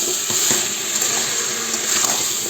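Pumpkin sautéing in a pan with cumin, ginger and green chilli, a steady close sizzle and hiss with faint stirring scrapes running throughout.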